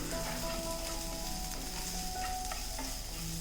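Small onions and garlic sautéing in sesame oil, a close, steady sizzle and crackle with occasional scrapes of stirring running throughout.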